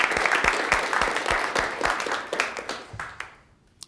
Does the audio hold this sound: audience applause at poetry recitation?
yes